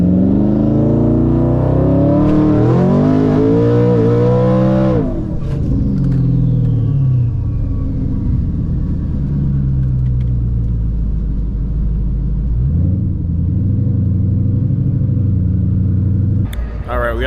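A twin-turbo Ford F150 pickup at a race track, its engine revving up in a loud rising roar, then settling to a heavy, steady rumble close by.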